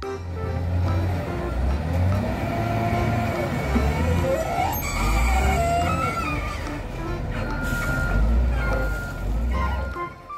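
A toy loader truck plays electronic beeping tones and motor effects close by, a steady loud mix of synthetic vehicle sounds with a melodic line, continuing without pause.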